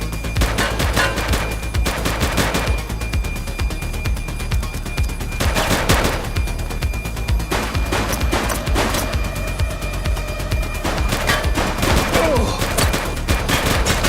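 Bursts of automatic and single-shot gunfire in the police video game The Precinct, loud and near, with heavy volleys near the start, middle and end and brief lulls between them.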